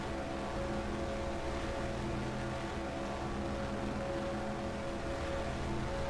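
Steady roar of a 1963-season stock car engine at Daytona in the NASCAR Racing 2003 game, a continuous droning hum held at constant pitch throughout with no talk over it.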